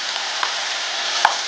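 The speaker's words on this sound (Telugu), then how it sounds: "చికెన్ నూనెలో మంచిగా గోలింది." Chicken frying in oil with ginger garlic paste, a steady close hiss of sizzling with a couple of faint taps from a utensil.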